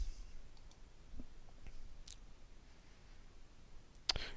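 A single sharp computer mouse click lands near the end after a few faint tiny ticks, close and crisp against a quiet room with no speech.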